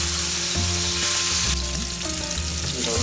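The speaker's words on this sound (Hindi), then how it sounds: "दोनों साइड हम फ्राई करेंगे, लेकिन शैलो फ्राई करना है, फ्लेम मीडियम पे रखना है।" Salmon pieces shallow frying in oil over a medium flame give a loud, continuous sizzle and crackle, with brief scraping clatters as the fish is turned in the pan.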